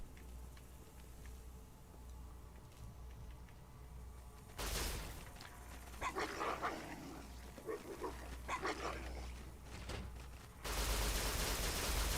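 Dogs bark and snarl in a school area during combat in the video game Fallout: New Vegas, in busy bursts over a low droning game background, with a louder stretch near the end.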